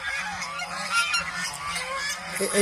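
Ducks for sale call and honk repeatedly, several birds close by, a steady chorus of nasal cries with no talking.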